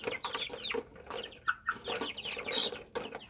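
Chickens and a rooster cluck and murmur while pecking at feed on a farm, a busy chorus of short close calls at modest volume.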